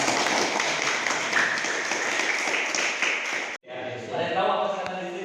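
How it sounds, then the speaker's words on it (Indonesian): A group of people clapping hands together in a classroom, a dense burst of applause for several seconds that breaks off abruptly, then lighter scattered clapping with a voice speaking underneath. "Tepuk tangan dulu dong semuanya."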